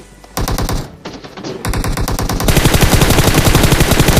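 Rapid bursts of automatic gunfire from the PUBG Mobile battle game, loud and close, with short pauses between volleys before a sustained, dense stretch of continuous shooting at the end.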